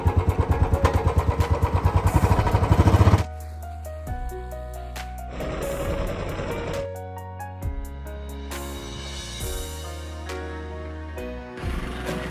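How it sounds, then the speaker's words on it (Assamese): A motorcycle ridden along garden roads in Charaideo, Assam, throbs loudly with a rapid pulsing engine note for about three seconds, then steady tonal music dominates with the engine no longer clearly distinct. "বাইক এতিয়া চলাব মৃন্ময়"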